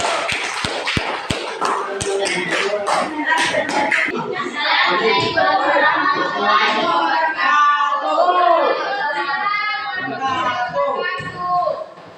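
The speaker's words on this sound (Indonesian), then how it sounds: "Tepuk tangan buat kelompok 1." A classroom group applauds group 1 with a short, sparse run of hand claps at the start, then a voice talks on over the room's murmur.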